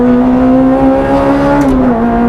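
Honda Integra DC5 Type R, tuned to 245 bhp, pulls hard through the gears on a race track, a loud, steady engine drone with strong harmonics that rise in pitch, dip briefly at a shift, then climb again.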